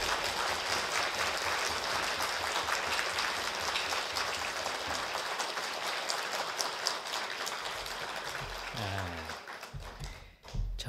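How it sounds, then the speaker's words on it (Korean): A church congregation at a Korean revival service applauds to welcome Pastor Kim Hwan-won, a dense, even wash of clapping that tapers near the end. "김환원 목사님 박수로 환영해 주시기 바랍니다"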